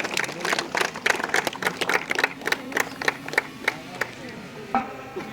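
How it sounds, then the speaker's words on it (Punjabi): Children applauding at a DAV school event, a burst of quick, uneven hand claps from a small group nearby, thinning out toward the end. "ਇੱਕ ਵਾਰ ਬੱਚਿਆਂ ਦੇ ਨਾਂ ਤੇ ਤਾੜੀ ਮਾਰਦੇ ਆ"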